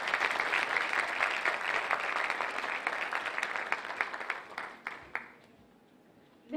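An audience applauds panel guests as they are invited onto the stage at a panel on democracy movements in Turkey, steady dense clapping for about five seconds before thinning to a few scattered claps and near quiet.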